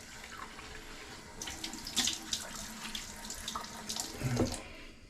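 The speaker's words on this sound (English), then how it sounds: "Do a little rinse off." Soap is rinsed under a running tap, steady splashing water into a sink with bursts of sharper spatter as hands move through the stream, close and alone.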